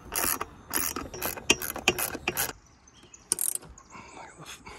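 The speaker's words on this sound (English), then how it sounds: "I just have to finish tightening them up." A hand tool tightens bracket fasteners in quick, close ratcheting bursts: several rapid clicking runs, a short pause, then one more burst and quieter fiddling.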